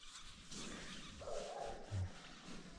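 A dog gives soft whimpers and a brief low bark, faint and close, against a steady background hiss during an affectionate handling session.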